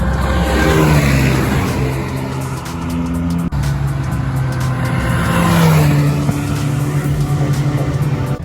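A loud turbocharged Ka engine roars and revs at high speed on a race track, rising and falling as it shifts gears, close and continuous.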